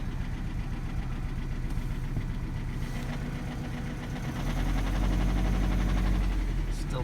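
A Subaru EJ257 engine idles on a cold start after a break-in, with a rapid mechanical clacking from a defective timing belt tensioner ticking steadily over the close, rumbling idle, which swells louder toward the end.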